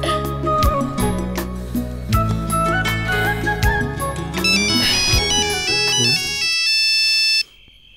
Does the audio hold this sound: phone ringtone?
yes